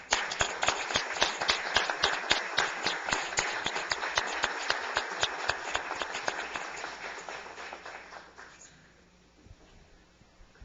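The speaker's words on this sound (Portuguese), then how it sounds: "Solicito ao nobre pais e ao público presente que em pé façamos uma salva de palmas aos homenageados." Standing applause from a council chamber audience honoring award recipients during a session, a steady dense patter of many hands clapping for about eight seconds before thinning out and fading to quiet.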